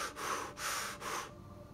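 Rhythmic energy breathing demonstrated up close: three quick forceful breaths in a row, each a breathy rush of air, then quiet.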